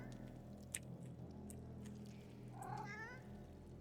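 A video game cat lets out a single drawn-out meow near the end, heard over a steady background hum with faint clicks and no speech.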